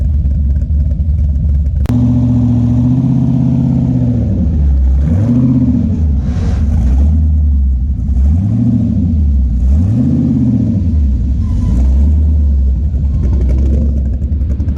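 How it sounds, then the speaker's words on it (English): A car's engine revs repeatedly in rising and falling surges as it is driven up onto a trailer, loud and close, with a steady low rumble between the revs. "you parking the car on the trailer?"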